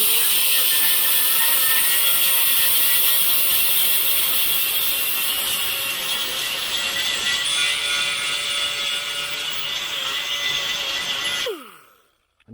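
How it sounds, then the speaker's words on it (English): A small grinder works on the rusty roof of a 1976 El Camino, making a steady, loud, high-pitched grinding whine that holds for about eleven seconds before cutting off sharply, with no talking. "we're going to use this little grinder."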